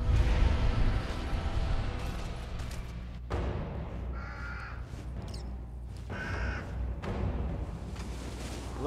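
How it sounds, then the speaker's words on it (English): A crow caws in the video game Remnant: From the Ashes. Several calls come over a steady ambient game background, with no talk. "Look at this bird, man."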